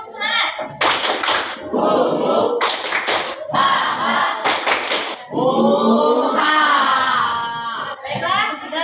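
Fast rhythmic group clapping in short bursts of patterned claps by a school class in a classroom, alternating with children shouting and chanting together, loud and close.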